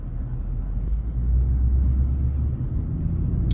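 Mercedes E63 AMG with the M156 V8 and aftermarket headers, a steady, deep exhaust rumble at low, cruising revs, swelling slightly midway and staying fairly loud throughout, with no talk.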